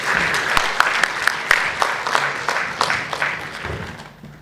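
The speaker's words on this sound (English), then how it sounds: "Can we have a big round of applause for all the speakers?" An audience at a transfer pricing session applauds the speakers, a moderate crowd clapping with some sharp individual claps standing out, tapering off at the end.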